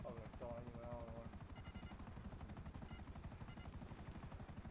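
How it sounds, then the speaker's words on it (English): A smoking, damaged chopper in GTA 5 flies with a steady, rapid rotor thump throughout, near and constant, with brief bursts of other game sounds layered over it. "My chopper smoking, that's not good."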